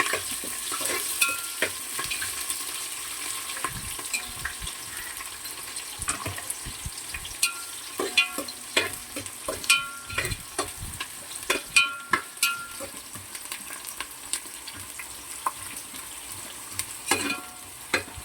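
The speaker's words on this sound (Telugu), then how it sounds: "ఇది మెయిన్ తర్వాత వెల్లుల్లి బాగా అవి ఎర్రగా వేగాలి" Garlic frying in oil until golden red for a mutton curry. A continuous hissing sizzle is broken by frequent stirring clicks and scrapes that grow busier toward the end.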